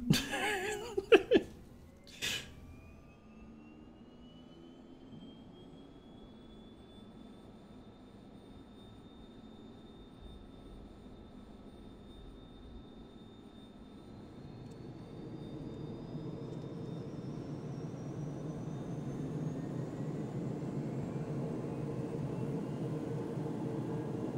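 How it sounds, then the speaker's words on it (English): Airliner engine spooling up during startup in the Infinite Flight flight simulator game, a steady rising whine that grows into a louder continuous roar after a few brief clicks at the start. "Engine start."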